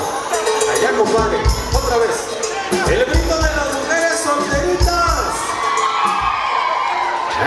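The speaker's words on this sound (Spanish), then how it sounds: "Otra vez. El grito de las mujeres solteritas." Single women at a wedding in Ahuehuepan, Guerrero shout together in a long, loud wave of high whoops and cheers, the crowd's voices overlapping and rising in repeated bursts.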